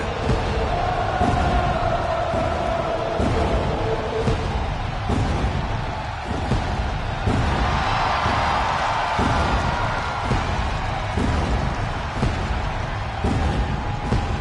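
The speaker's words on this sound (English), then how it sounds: "Sets the WWE Universe ablaze and gets the crowd singing." Arena crowd in the WWE 2K26 video game roars and chants in a steady, dense wash, with rhythmic claps and thumps punctuating the sustained noise throughout.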